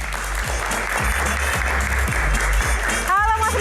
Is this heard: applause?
yes